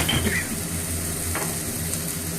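Spiced potato curry bubbles and sizzles in a pan, a close, steady frying hiss with soft popping bursts and a brief clink of a utensil.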